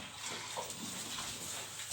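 Water runs steadily from a livestock drinker and spills over into a trough, a continuous splashing gush at moderate volume with no voices.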